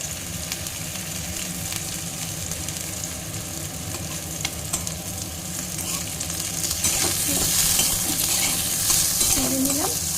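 Hog plums (amra) stirred in a little oil in a pan, a steady soft sizzle with scraping stir strokes that grow louder and busier toward the end.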